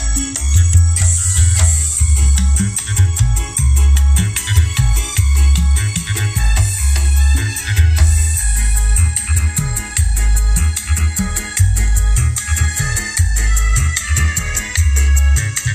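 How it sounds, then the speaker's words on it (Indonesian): Polytron PMA 9522 speaker playing back music for a sound test: a loud, full mix with heavy booming bass beats and a busy upper range, continuous throughout with no talking. "untuk cek sound suaranya seperti apa, kita dengarkan suaranya seperti ini"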